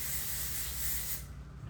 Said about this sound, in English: You see, I'm spraying texturizing spray